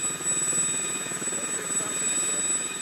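A helicopter used in anti-poaching operations in the African bush drones steadily with a dull, continuous rotor thrum at moderate distance, while someone talks in German over it.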